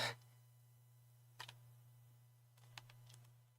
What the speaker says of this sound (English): There is the other keyboard again